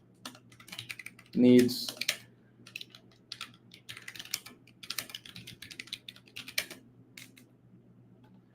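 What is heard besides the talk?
fast typing on a computer keyboard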